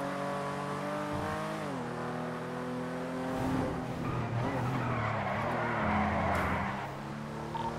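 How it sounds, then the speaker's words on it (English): A car in the game GTA drives with a steady engine drone that shifts in pitch, overlaid by sustained tire skidding and squealing, loud and close throughout with no speech. "Well, that sounds like the car."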